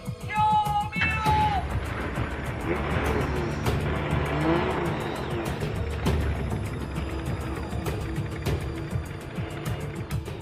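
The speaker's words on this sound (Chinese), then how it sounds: "发动机的噪音轻而易举就可以掩盖掉人声" A modified car engine roars loudly and steadily in a driver's cabin setup where engine sound is piped inside, dense rumbling with tire-like squeals and brief higher tones, talk faintly buried beneath.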